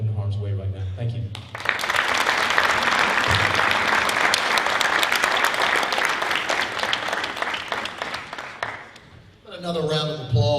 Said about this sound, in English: Another round of applause for Colonel Tim Thomas.